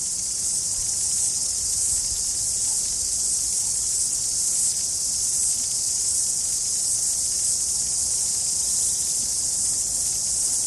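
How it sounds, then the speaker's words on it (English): A steady, high-pitched buzzing drone of cicadas fills the air continuously, loud and unbroken, with no voices. "It's the cicadas in the trees."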